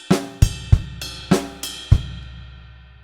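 A drum kit plays a short groove: six sharp hits mixing ride bell, snare and bass drum in an offbeat pattern, close and alone, the last stroke ringing out.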